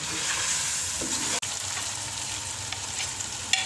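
Pieces of meat for palak gosht fry in a hot pan with a steady, close sizzle, broken by a sharp stirring scrape partway through and a few soft clinks.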